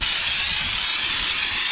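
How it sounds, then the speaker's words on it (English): Fluid Film rust proofing sprayed from a handheld sprayer, a steady, loud continuous hiss of aerosolized spray running without pause, close to the source and with no talking. "As you spray it, you can kind of see what it's going to do."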